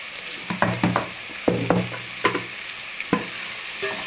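Chicken and salt being stirred in a pan for chicken kuska, a spoon scraping in irregular bursts over a steady soft sizzle of frying, close and moderately loud, no talking.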